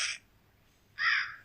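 A crow caws in the Granny horror video game, two harsh calls separated by a short pause, close and clear with nothing else behind them.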